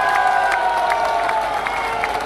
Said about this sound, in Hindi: बाबा बालकनाथ जी एक बार ताली बजा करके सब लोग स्वागत कर दो।